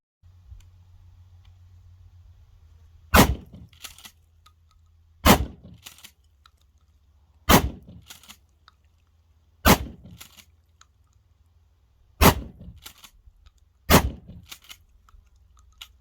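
A Mossberg 500 shotgun fires six loud, sharp shots outdoors, evenly spaced about two seconds apart, each with a short echoing tail and quiet between them.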